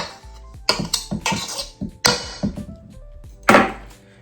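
Sugar cookie dough scraped down the sides of a mixing bowl with a spatula scraper: a series of close, loud scraping and knocking strokes against the bowl in uneven bursts, with brief pauses between.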